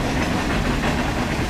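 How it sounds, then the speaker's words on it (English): A train rattling past near an old station building being turned into a community center, a loud, dense, continuous rumble and clatter throughout. "As the train rattles on"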